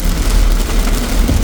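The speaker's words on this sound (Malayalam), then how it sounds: "അങ്ങനെ മഴ കിട്ടി മക്കള്." Rain hisses loudly and continuously over a car being driven at night toward the Kalba mountains in Sharjah, with a dense, even wash over a deep engine and road rumble.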